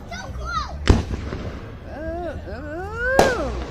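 Two sharp firework bursts crack out a few seconds apart during a stormy evening display in Kansas, each followed by whistling, rising and falling tones, with people chattering excitedly throughout.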